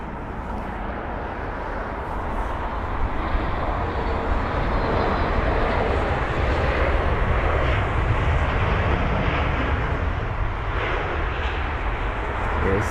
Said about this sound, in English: Now I've got BA1345, this Airbus A319 from Jersey.